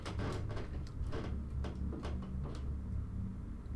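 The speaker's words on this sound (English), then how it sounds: "Okay, hear knocking. That's never a good sound." Knocking in the horror video game A Curse of Nails: a series of dull, irregular thumps against a door, fairly loud over a steady low ambient hum.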